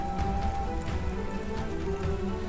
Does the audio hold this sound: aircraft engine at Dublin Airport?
no